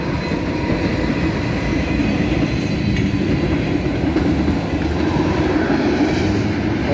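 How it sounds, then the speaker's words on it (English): A CSX mixed freight train rolls past a rail crossing in Kingston, New York, a steady, loud rumble of wheels and cars with faint rhythmic clacking, continuous throughout. "Here comes the train."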